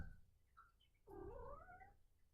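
A house cat gives a short faint call followed by a longer, rising drawn-out meow, close and alone in a quiet room.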